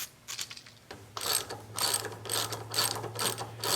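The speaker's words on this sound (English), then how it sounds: "Run a chaser through all of these threads." Thread chaser worked through the bolt threads on a Cub Cadet LGTX1054 mower deck, producing a loud, close run of rapid metallic ratcheting bursts after a brief quiet start.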